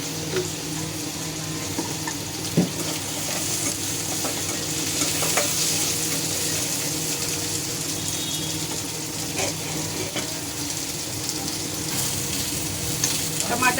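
Onion and tomato fry in a little oil for a crab curry masala, giving a steady, close sizzle with occasional stirring clicks and no talking.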